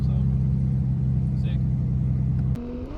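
A drift car runs up into a corner in second gear at Ozark Raceway, its engine droning steadily and loud up close, then dropping sharply in pitch and settling lower for the last half second.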